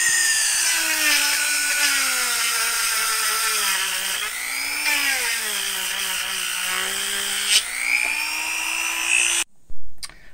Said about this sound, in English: I'm going to take my Dremel tool and I'm going to make the hole a little bit bigger. So let's start grinding.